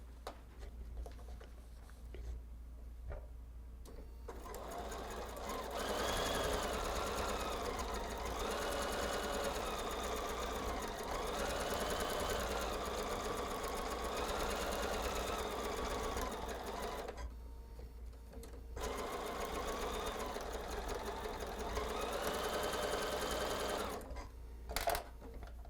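A sewing machine stitches quilt block seams in a long steady run, pauses briefly, then resumes; the whirring motor is close and loud with no talking.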